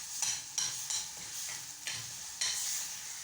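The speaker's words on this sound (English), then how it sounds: "We're also going to mix that and let it cook for some time." Tomato paste is stirred into a green gram stew in a cooking pot, with about half a dozen rhythmic scraping strokes over a soft, steady sizzle.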